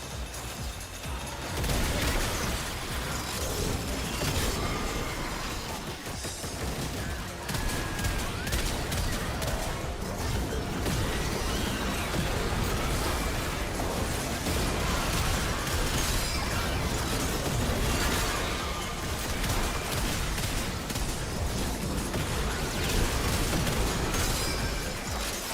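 Dense, chaotic bursts of gunfire and explosions from the video game Warframe, a loud continuous barrage of blasts and shattering impacts running nonstop with no pauses.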